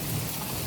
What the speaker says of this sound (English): the rain's kind of dialing down